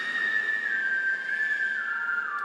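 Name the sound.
whistle synth layers processed with Soothe plugin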